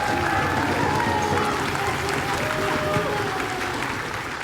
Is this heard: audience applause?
yes